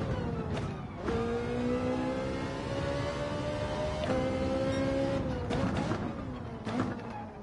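A race car engine in Gran Turismo 7 drones steadily and loud, pitch climbing through gears with sharp shift breaks, heard from the cockpit view.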